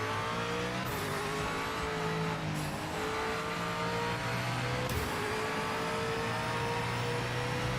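Race car engines in the Project Motor Racing video game scream continuously at high revs, with pitch sweeps and sharp drops at gear shifts, loud and with no talk over them.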